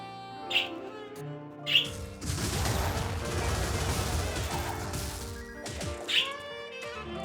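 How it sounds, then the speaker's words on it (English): Three short, bright bird chirps ring out in the video game Wizard of Legend, spaced apart over game music, with a loud burst of dense combat noise filling the middle. "Fortunately, you can sometimes have cheerful birds that are going to try to make your day a little better."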